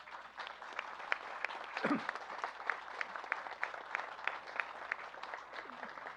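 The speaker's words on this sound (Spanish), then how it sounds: "para quien pido un aplauso" An audience at an outdoor event at Tlaxcoaque in Mexico City applauds historians Gabriela Pulido and Andrea Gálvez, a steady patter of moderately distant clapping throughout with a brief voice and thump partway through.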